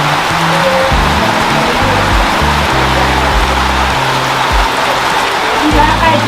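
Rain pouring in Trench Town, Kingston, Jamaica, a dense close hiss of water on surfaces with low thumps and rumbles underneath, continuous and fairly loud.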